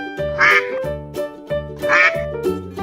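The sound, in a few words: duck quacking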